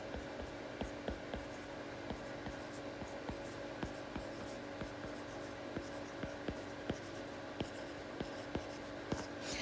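A pen writes out the remainder of a long division by hand, such as 20 divided by 3, with a close, steady scratching and regular light taps over a constant background hiss.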